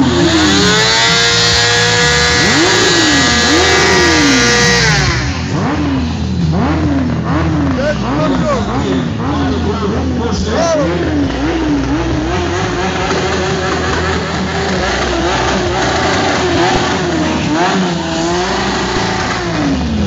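Motorcycle engines revving at an outdoor motorcycle meet during a bike wash, with repeated rising and falling throttle blips, loud and close, over crowd noise and voices.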